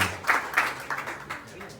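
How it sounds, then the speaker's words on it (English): Scattered clapping from a small audience at Anthony Green's secret acoustic show in Chile, a few thin bursts that taper off quickly at moderate distance. "Round of applause, please"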